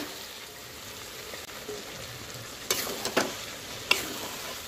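Thick spice masala for a wedding-style goat curry fries in a pan under a low, constant sizzle, broken by a few loud scraping stirs and clanks toward the end.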